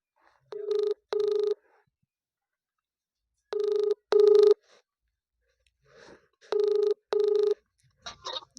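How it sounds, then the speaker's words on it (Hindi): A phone call rings out on the line. Three double-ring pairs repeat with silent gaps between them, clear and electronic, and a brief different sound follows at the end. "तो देखिए हम फ़ोन लगा रहे हैं"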